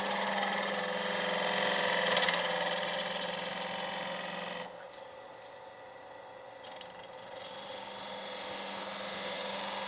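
A woodturning tool cutting a spinning piece of wood on a lathe, a continuous close whirring hiss with a motor hum that drops and softens midway as the cut eases, then builds again, no talking.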